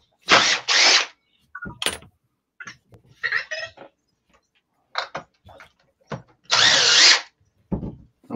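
A power drill drives screws into a HoBao Hyper MT RC truck in a workshop: several short, loud whirring bursts separated by pauses, clicks and handling noises.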